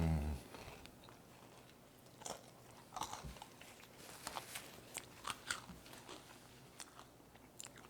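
Close-up biting and crunching of a crisp Boursin cheese and prosciutto appetizer with pepper jelly, with repeated sharp crunches and chewing that grow busier toward the end, and no talking.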